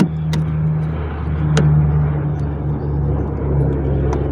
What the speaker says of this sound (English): The plane that you hear is a cargo one, a military one